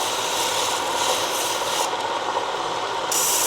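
Close, continuous wet grinding hiss as the back of a rough opal is pressed against a spinning lapidary wheel, steady and loud with slight changes in pressure.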